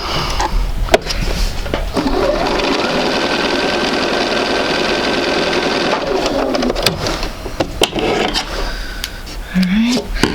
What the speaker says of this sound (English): put these together and sew a nice scant 1/4 inch seam allowance